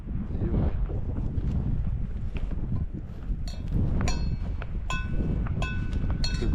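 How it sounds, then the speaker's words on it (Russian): Strong mountain wind in the Altai buffets the microphone in a steady low roar, with a few faint clinks near the end. "Ветер такой, что шляпу сдувает."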